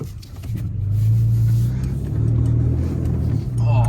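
A motocross bike engine drones and revs on a flooded dirt track, a steady mid-pitched roar that rises and falls with a faint voice underneath.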